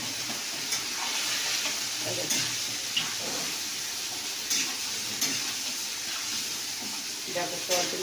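Soya chunks sizzling and frying in a pan with water added, a steady hiss with scraping stirs of a spoon at irregular moments, fairly close and moderate in level.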